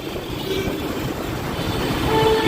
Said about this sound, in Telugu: మెట్రో కింద ఇప్పుడు మెట్రో వస్తుంది